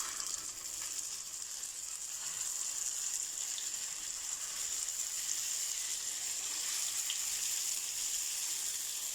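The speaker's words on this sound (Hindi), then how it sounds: "ये देखिए सब गोला कबाब मैंने ऑयल में ऐड कर दिए फ्राई करने के लिए।" Gola kebabs shallow-frying in hot oil, giving a steady, even sizzle and hiss that runs unbroken throughout with no voices.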